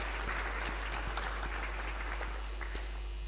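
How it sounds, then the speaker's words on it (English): An audience gives a short round of applause at a religious class, steady and moderately distant, with light clapping texture throughout and no talk over it. "We'll give you a little clap there."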